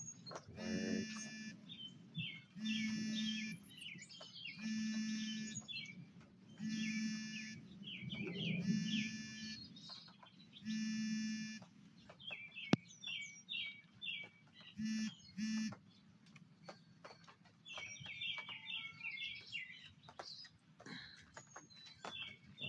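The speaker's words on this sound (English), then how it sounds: "Birds." Birds calling in a backyard after rain, a repeating pattern of bright chirping notes in regular bursts, moderately close, with a few softer scattered calls and no talking.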